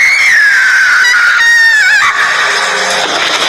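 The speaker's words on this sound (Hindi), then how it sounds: "दरवाजा खुलते ही एक औरत की फिर चीखने की आवाज सुनाई देती है।" A woman screams in a horror-story scene as a door opens during heavy rain, a loud, sustained, wavering high-pitched cry that breaks off into a noisy wash.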